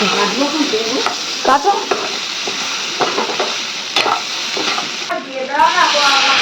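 Chutney cooks in a home kitchen pan, loud continuous sizzling with repeated scraping stirs of a spoon, while voices murmur faintly in the background.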